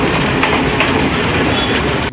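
A moving passenger train rumbles past loud and close, a continuous heavy roar of wheels on rails with faint rhythmic clatter running underneath, and no voices.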